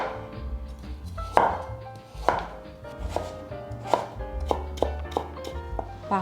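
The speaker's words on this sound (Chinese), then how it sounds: "接着把红萝卜削皮，把红萝卜切成小丁。" A knife chops peeled carrot into small dice, giving a series of sharp, irregularly spaced thuds on a cutting board, close and clear, with no talk.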